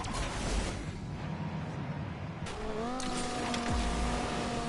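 A racing car engine revs and whines with tire screeches, the pitch climbing as it accelerates, sounding like game audio.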